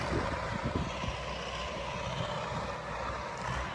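A YuMZ tractor with a turbocharged D-65 diesel engine runs in a field, giving a steady, loud, rough drone throughout.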